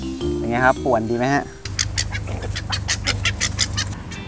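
Several fennec foxes squabble at a minizoo cafe. Rising, whiny squeals give way to a rapid burst of sharp chattering yips and squeaks, close and lively, with no one talking over them.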